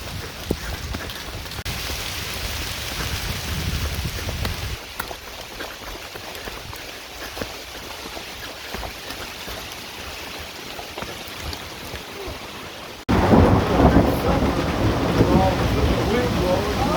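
Rain on the Appalachian Trail near a lakeside shelter: steady dense hiss of rainfall with low rumbling underneath, turning abruptly louder and brighter partway through as the downpour intensifies.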